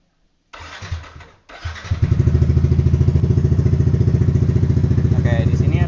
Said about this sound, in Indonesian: sekarang kita coba nyalakan mesin ya